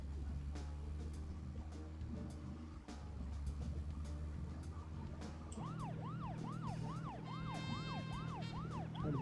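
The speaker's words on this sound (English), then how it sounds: "Just listen to my siren." Police car siren from the video game Deadly Premonition, its rising-and-falling wail starting midway and repeating steadily over a low engine drone, loud and close.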